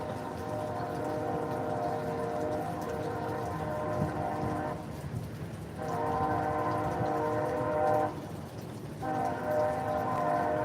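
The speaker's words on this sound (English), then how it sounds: "they say a tornado sounds like a train" A tornado's deep, continuous rumbling roar like a passing train, broad and steady with a couple of brief dips, fairly loud and close.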